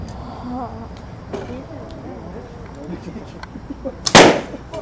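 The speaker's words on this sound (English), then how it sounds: "I'm going to try to shoot 2 balloons with 1 arrow." An arrow is shot through two balloons held one in front of the other at an archery exhibition in an Ohio Cabela's store. After steady background talk, a single sharp, loud pop bursts out near the end.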